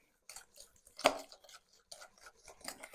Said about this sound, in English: now we're going to mix our yolks with our sugar